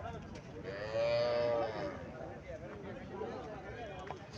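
A Haryana-breed cow lets out one long, low moo close by amid a noisy outdoor cattle market crowd, with people talking in the background.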